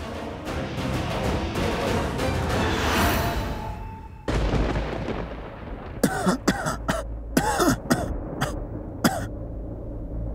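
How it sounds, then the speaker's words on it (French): A burst of dense noise gives way to a series of sharp, throaty coughs from a small cough, several in a row with short gaps, close to the listener. "ce n'est qu'une petite toux, ça va passer"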